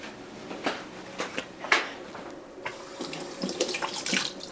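Hands are washed under a running kitchen tap while cooking, with close, uneven splashes and bursts of water as the hands move in and out of the stream.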